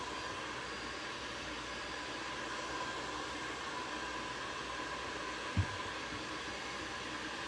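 A hair dryer blows a steady, even whoosh of air at moderate volume to dry glue on a thrifted shelf, with one brief soft knock near the end.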